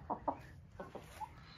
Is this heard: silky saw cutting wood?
no